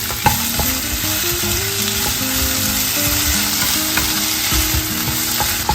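Chopped tomato and two green chillies sauté in a pan for chilli paneer, a dense, steady sizzle with light stirring clicks, close and continuous with no voices, and a faint high whine throughout.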